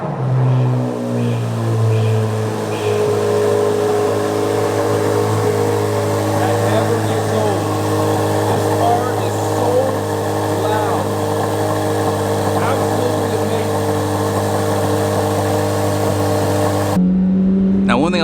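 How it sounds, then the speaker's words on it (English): A Chevrolet C8 Corvette Z06 engine runs at a steady, loud idle close by for most of the time, with a brief shift in tone near the start and an abrupt cut near the end. "I'm sure you guys would like to hear a cool startup."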